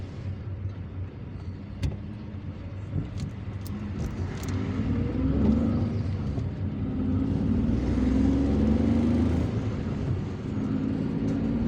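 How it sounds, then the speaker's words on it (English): A car drives through the streets of Ben Aknoun in Algiers, giving a steady, moderate engine and road rumble that swells slightly midway and holds continuously throughout, with no talk. "so we are driving through another part of Ben Aknoun"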